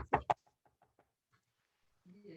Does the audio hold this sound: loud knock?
yes